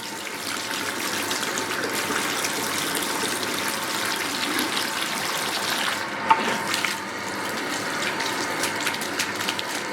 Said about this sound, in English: And now I'm gonna rinse it out.